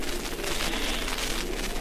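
A voice imitates a rocket's hiss, like a Fourth of July firework, in an old radio drama: a steady, airy, close hiss lasting about two seconds without a break.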